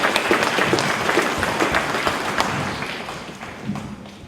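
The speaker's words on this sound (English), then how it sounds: "Give them another round of applause" An audience at a Reconciliation Day event applauds speakers, a broad wash of clapping that starts strong and gradually thins and fades over a few seconds.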